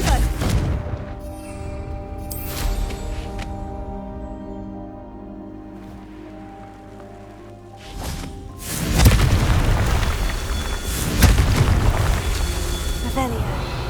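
Confringo spell blasts in Hogwarts Legacy, deep booming bursts that erupt loudly amid a dense game soundscape, with a quieter humming stretch between hits and a voice speaking over it.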